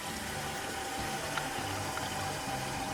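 Tap water running steadily to wet a shaving brush before face lathering with Tabac shaving soap, a continuous close splashing flow with no talk.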